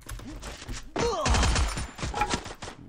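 Gunfire rattles in a shooter video game where a rifle is in use, with scattered shots before a loud, dense volley of rapid bursts in the middle.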